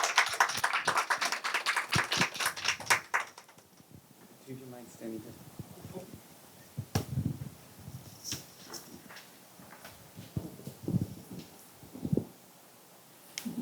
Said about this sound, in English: Please give, again, a round of applause to both speakers to move down the stage.